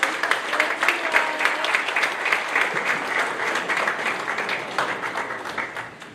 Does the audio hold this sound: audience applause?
yes